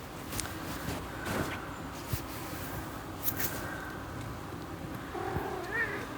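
A house cat meows a few times at close range in a quiet indoor room, the calls soft and intermittent against light background noise.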